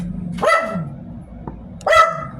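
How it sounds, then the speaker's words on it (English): Two sharp dog barks, close and loud, about one and a half seconds apart, with no other sounds around them. "My dog's barking."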